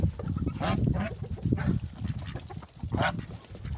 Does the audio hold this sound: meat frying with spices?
no